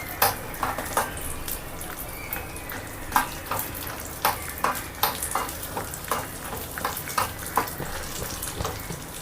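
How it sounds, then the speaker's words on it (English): Tur dal, chana dal and chilli fry in a teaspoon of hot oil for rasam, giving a close, steady sizzle broken by repeated rhythmic scrapes of a spoon stirring the pan, with no talk. "I will add 1 teaspoon of oil in this, tur dal, chana dal, and the chilli goes in. We have to fry this."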